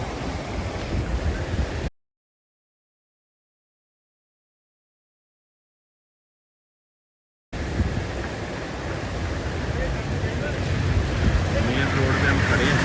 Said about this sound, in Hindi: पानी ऊपर से आ रहा है पहाड़ों से।